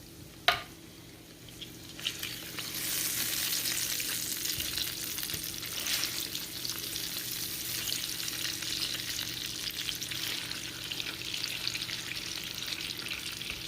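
Bacon sizzles steadily in a pan after a sharp knock at the start, the frying hiss rising and holding loud and close throughout with no talk.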